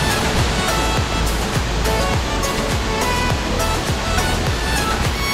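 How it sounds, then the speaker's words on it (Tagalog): Alalum Falls in Sumilao, Bukidnon pours in a steady, loud, broadband roar of rushing water that fills the whole stretch with no pauses. "So ito na yung Ulalum Waterfalls,"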